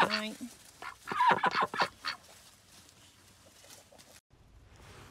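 Several chickens cluck and squawk close by in a quick burst in a farm chicken run, then quieter scattered clucks continue, with a short silence near the end.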